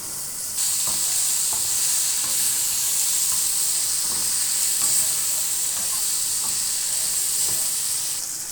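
Half-boiled potatoes hit a pan of fried spices and get stirred, giving a steady, close sizzle and hiss with a few soft scraping knocks throughout.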